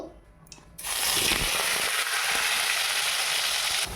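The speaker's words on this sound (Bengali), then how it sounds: "এখানে তেলটা হয়ে গেছে আলুগুলো ভেজে নেবো" Potatoes hit hot oil and settle into a loud, steady sizzle that swells after a quiet first moment and runs unbroken, close up, while cooking a chicken curry at home.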